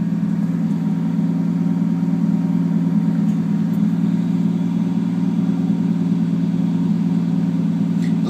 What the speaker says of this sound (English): listen to how rock solid